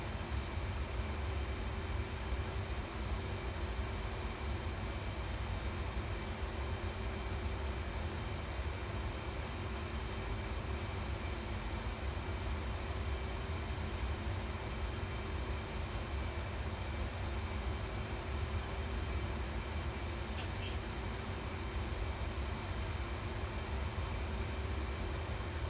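Steady, continuous jet engine roar from an F/A-18C in a flight simulator, set up for a carrier landing, droning evenly throughout with no talk.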